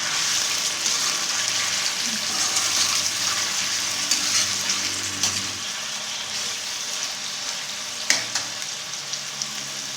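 Large chicken cubes frying in a karahi, a loud, continuous hissing sizzle close up, with occasional stirring scrapes and clinks against the pan and no voices.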